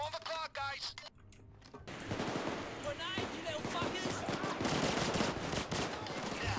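Gunfire in Payday 2, dense rapid automatic shots crackling continuously and growing louder over several seconds after a brief quiet gap, mixed with other game noise.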